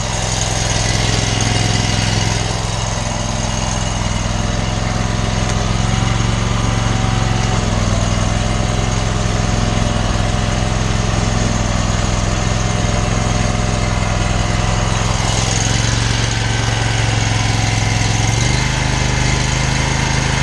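A gas-powered pressure washer engine idles with its unloader set all the way down, giving a steady, loud, continuous drone that holds even for the whole stretch with no voices.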